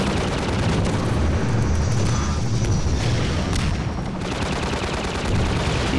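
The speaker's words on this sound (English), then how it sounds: "He's trying to shoot me and he's missing." Dense, heavy gunfire rumbles through a Half-Life 2 firefight, with booming low shots and rapid bursts packed closely together, loud and continuous with no talk over it.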